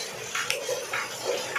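Heavy rain water gushes and splashes in repeated surging bursts during a downpour in a village. The sound is close and moderately loud, with no talk.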